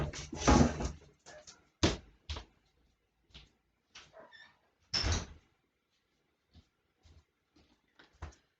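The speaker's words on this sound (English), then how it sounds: "I'll shut the door." A door bangs shut with a solid thunk among several sharp knocks and clatters, then the room falls nearly silent with faint small sounds.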